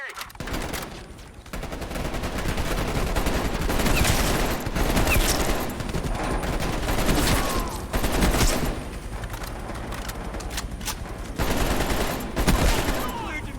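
Sustained automatic gunfire and bursts of shots during a helicopter escape in Call of Duty: Black Ops Cold War, loud and dense throughout with brief lulls, a voice heard faintly in the mix.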